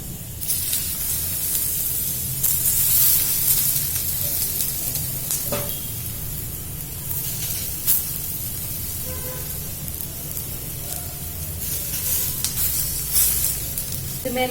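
Sliced brinjal fries in about a tablespoon of oil over a low stove flame, giving a steady close sizzle and hiss with occasional soft stirring scrapes throughout.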